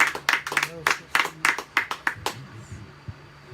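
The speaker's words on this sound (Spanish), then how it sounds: "Denle un aplauso a Jesús, Dios de la gloria." A church congregation claps in a rhythmic series of sharp, fairly close claps for about two seconds, then falls quiet apart from a faint thump.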